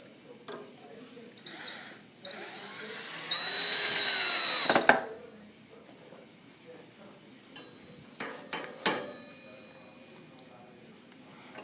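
A power drill drives wood screws into a wooden post while a large stand is assembled, giving a loud sustained whir of a few seconds, then quieter clicks and handling knocks.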